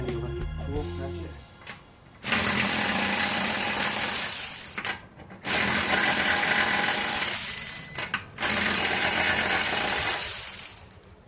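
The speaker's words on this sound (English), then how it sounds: "We'll use our handy dandy electric tool ratchet." An electric ratchet spins the lug nuts off the rear wheel of a 2006 Nissan Altima 3.5L during a brake job, running in three loud, sustained whirring bursts of about three seconds each with brief pauses between.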